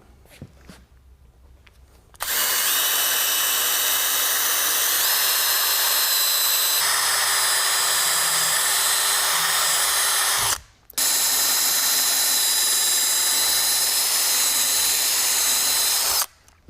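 Steady whine of a power drill driving screws into a shutter frame while installing NewStyle and Heritance shutters on a bi-fold track, running continuously for several seconds, briefly stopping, then resuming up close.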